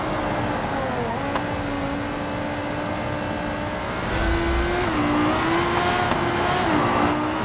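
A race car's engine in the BeamNG driving game holds a steady, droning note that rises in pitch as it accelerates, with brief dips like gear changes, growing slightly louder midway with no voices.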